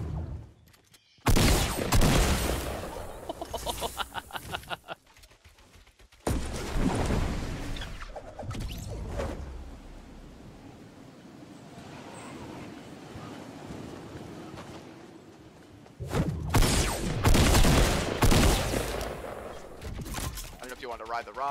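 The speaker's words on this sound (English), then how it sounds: "Oh, no, they're shooting it down." Gunfire shooting at a rocket in Fortnite, loud bursts of shots in clusters near the start, middle and end, separated by a quieter windy stretch, with excited voices talking over parts of it.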